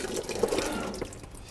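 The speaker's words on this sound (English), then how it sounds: "you literally flush the toilet using the dung." Toilet being flushed with a mix of cow dung and water at a biogas setup, heard as a brief steady wash of running, gushing liquid with small splashy drips, fairly close and with no talk.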